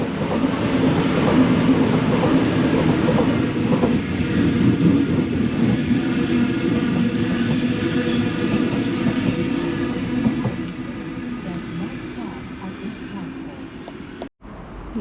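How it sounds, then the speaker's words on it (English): A Sydney B set passenger train moves through Summer Hill station as a loud, sustained rumble and hum with rail noise that stays steady, then fades somewhat after ten seconds before a brief cut near the end. "Now we have a B set passing by."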